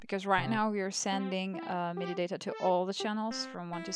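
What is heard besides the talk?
No everyday noise stands out behind the speech.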